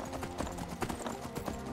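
Horse hooves clip-clop steadily in the PC version of Skyrim, a quick, even rhythm of hoofbeats that stays close and clear over the game's background sound.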